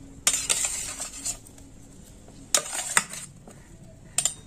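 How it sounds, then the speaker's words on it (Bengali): Cut paneer cubes being mixed with salt in a bowl, with a few short bursts of scraping and clinking separated by quiet pauses, close by. "পনিরগুলো এইভাবে কেটে নিয়েছি, আর এতে আমি অল্প লবণ ছড়িয়ে দিয়েছি। এবার একটু মেখে নিচ্ছি।"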